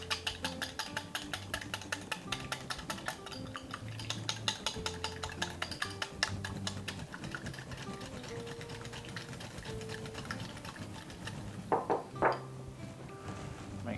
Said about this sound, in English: we're going to go ahead and whisk this together and get that egg scrambled up